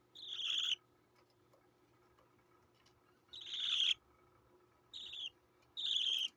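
A 24-day-old budgie chick squawks in four harsh, high bursts, each under a second and separated by pauses, close by against a quiet background.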